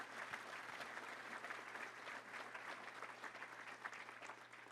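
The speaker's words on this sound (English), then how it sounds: "Let's give a round of applause to Simmons Bank and all of our great sponsors" An audience at a Little Rock Touchdown Club luncheon claps for the sponsors, giving a steady, fairly distant patter of applause that carries on throughout.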